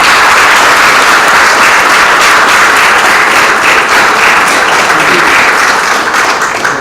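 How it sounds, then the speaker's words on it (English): An assembled audience at an honor session gives a sustained round of applause for honoree Maurice Ferre, loud and even throughout with many hands clapping together. "I ask you to give a round of applause to our honoree, Maurice Ferre"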